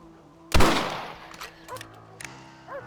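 A single loud, close rifle shot in a Red Dead Redemption game scene cracks out sharply, its echo fading over a second, followed by quieter clicks and faint game sounds.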